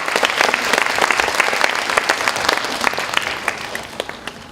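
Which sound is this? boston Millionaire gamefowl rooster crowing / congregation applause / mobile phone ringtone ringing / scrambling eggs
congregation applause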